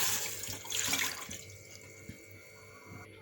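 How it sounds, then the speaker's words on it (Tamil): Water from a tap runs into a bowl set on a stove for cooking semiya rava vada, a loud gushing pour at first that thins to a quieter trickle, then stops with faint clinks. "தண்ணி ஊற்றிக்கலாம்."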